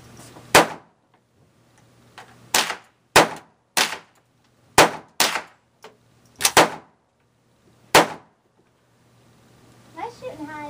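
DPMS AR15 rifle firing Hornady 55 grain .223 V-Max reloads outdoors, eight or so sharp loud shots spaced irregularly about a second apart, with a voice talking at the end.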